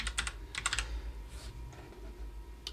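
Typing on a computer keyboard, with quick bursts of close, crisp key clicks separated by short pauses, fairly quiet and with no talking.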